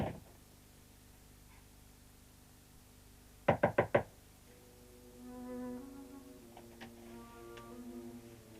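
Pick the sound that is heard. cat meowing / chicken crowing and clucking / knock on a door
knock on a door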